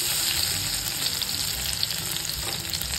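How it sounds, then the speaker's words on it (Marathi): Mustard seeds, cumin, curry leaves and crushed garlic fry in hot oil with a loud, dense, steady hiss and scattered crackles, close up and without voices. "तर आता मोहरी टाकणार आहे मी याच्यात, जिरे टाकायचे, कढीपत्ता आणि ठेचलेला लसूण आहे बघा."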